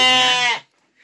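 Batur sheep in a pen give one loud, close bleat lasting about half a second, followed by near silence.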